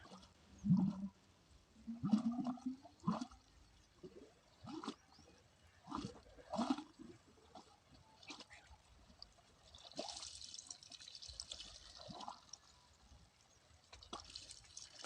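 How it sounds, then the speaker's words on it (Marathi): Water splashes and gushes out of a pipeline chamber in irregular bursts, with trickling and dripping between surges, then a rushing hiss of flow near the end. "पाणी परत चेंबरमधून बाहेर निघतंय"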